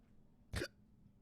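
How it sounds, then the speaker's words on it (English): A single short hiccup bursts out sharply against a quiet background, one brief loud catch with nothing else around it. "Oh my gosh, not hiccups now."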